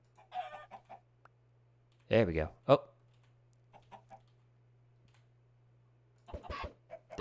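Chickens cluck and squawk in a farming video game, with short bursts of clucking near the start, a louder flurry in the middle and more at the end, and someone briefly talking between them over a steady low hum.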